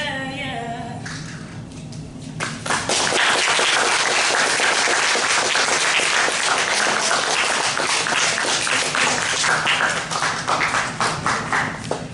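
A church congregation applauds two singing sisters, sustained loud clapping from many hands that swells after a quieter start, following the last notes of music.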